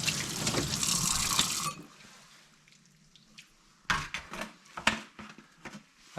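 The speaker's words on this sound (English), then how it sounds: "we'll just rinse this off" Tap water runs loudly over smoked salmon for about two seconds, a steady broadband rush, then stops, followed by scattered clunks and light handling sounds at a moderate distance.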